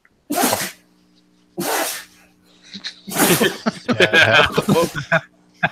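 A dog sneezes twice in sharp bursts, then people talk and laugh nearby.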